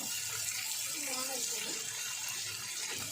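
Water poured into a cooking pan for a banana-flower and shrimp curry gives a steady, close hiss and splash that runs unbroken for about three seconds.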